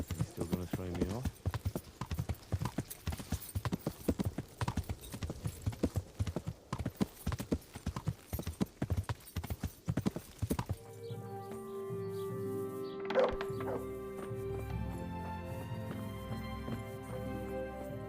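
Horse hooves clip-clopping steadily on ground in the medieval game Kingdom Come: Deliverance, a close rapid rhythm for about ten seconds before stopping, then quieter ambience with birdsong and a brief voice.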